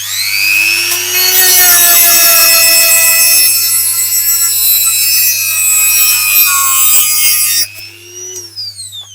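A rotary power tool cutting a part of a Dinky Toys diecast military ambulance, a loud, close, high-pitched whine that grinds steadily for several seconds, then stops abruptly and is followed by a few faint handling knocks.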